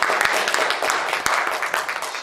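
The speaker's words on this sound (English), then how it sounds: "Let's give Linda Brown Robinson a round of applause." Applause from the audience at an NAACP congressional forum, a full crowd clapping with some sharper individual claps standing out, fairly close and sustained throughout.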